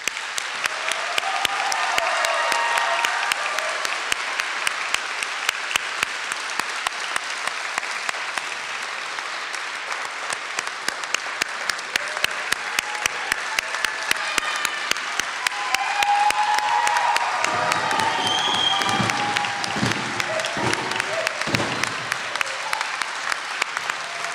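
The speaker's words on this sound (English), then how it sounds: "give them one huge applause for their accomplishment today" Sustained, dense audience applause for graduates at a graduation ceremony, a steady loud roar of clapping lasting throughout, with a few louder individual claps and faint cheers toward the end.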